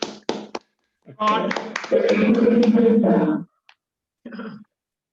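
A single person claps a few times in place of an audience, with a stretch of talk in between.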